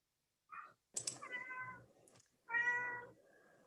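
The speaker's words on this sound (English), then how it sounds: "I hear a cat." A house cat meows three times in short, clear calls close to the microphone, with faint clicking like keyboard typing in between.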